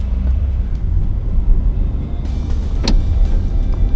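A car pulls away and picks up speed with little throttle, a steady low engine rumble and road noise running throughout at close range, with no talking over it.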